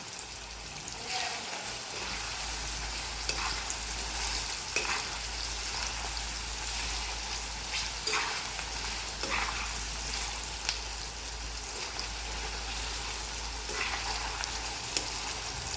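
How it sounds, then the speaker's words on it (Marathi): Garlic-ginger paste for a tur dal dish sizzles steadily in a hot pan, a dense, close frying hiss that runs evenly throughout, with occasional light stirring clicks. "आता यात लसूण अद्रकाची आपण पेस्ट घालूया आणि परतून घेऊया."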